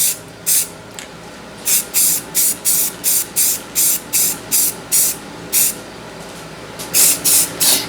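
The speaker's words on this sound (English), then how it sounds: "I'm just going to blast it with some of this red oxide or whatever it's called, primer." Red oxide primer sprayed from an aerosol can onto a Honda-clone Predator 212 engine gas tank, about a dozen short loud hissing bursts in steady rhythm, close up with no talking.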